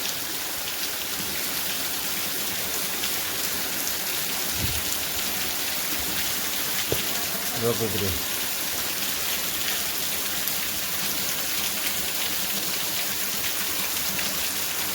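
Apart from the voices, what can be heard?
heavy rain falling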